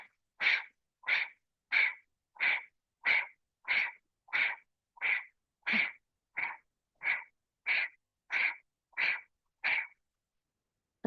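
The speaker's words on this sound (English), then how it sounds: "activate that breath of fire" Breath of fire during a Kundalini yoga kriya: about sixteen sharp, forceful nasal exhalations in a steady, even rhythm, close and clear, with no voice.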